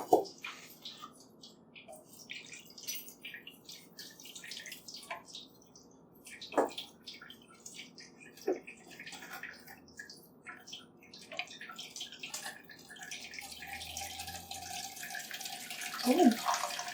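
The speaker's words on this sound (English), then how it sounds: "I'm going to add 500 milliliters of water to each one, and that's going to be our rainfall" Water being poured onto red clay soil trays in a rainfall simulator, faint trickling and dripping with scattered splashes, a few louder pours, and quiet background activity.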